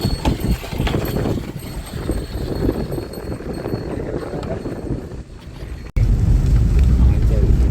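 Horse-drawn cart near Arugam Bay, Sri Lanka, with hooves clip-clopping steadily under wind noise and someone talking, then a sudden cut to louder, rumbling road sound.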